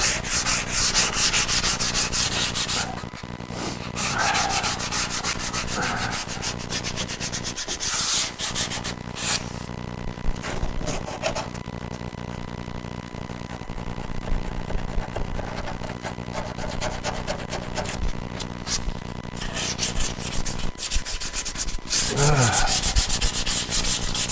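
Sandpaper rubs hard and repeatedly along the seams and edges of a Chevrolet Suburban body after old seam sealer is removed, a close, continuous scratchy scrubbing with brief pauses.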